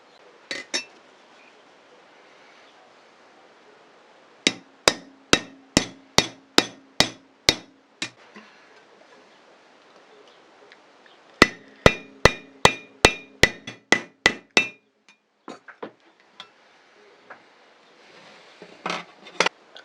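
Silver being bent around the top of a steel bangle mandrel for a buckle base, giving two bursts of sharp, ringing metallic taps in quick even rhythm, with scattered softer clinks between them, close and fairly loud with no talking.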